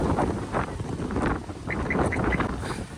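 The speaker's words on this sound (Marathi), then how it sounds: "लय जोरात वार यायला लागले राव" Strong wind roars steadily against the microphone, a constant rushing noise with gusty surges and a few faint knocks in the background.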